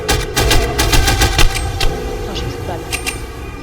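Rapid bursts of gunfire in a horror video game, a quick run of sharp repeated shots at the start followed by a few scattered louder cracks, with faint game sounds between.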